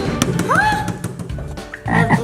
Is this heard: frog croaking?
yes